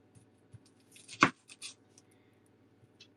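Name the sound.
knife chopping the ends off shallots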